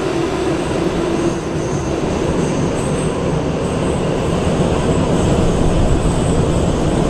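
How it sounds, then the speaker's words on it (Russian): An automatic Moscow metro train in Roblox runs steadily, a loud continuous rumble and rail roar with no pauses and no voices. "Автоматическое московское метро называется"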